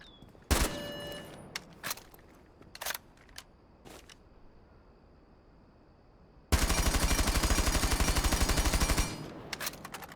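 Rainbow Six Siege gunfire from a weapon fitted with a muzzle brake: a few scattered single shots early on, then a sustained loud automatic burst of rapid evenly spaced rounds lasting about two and a half seconds, with no talking.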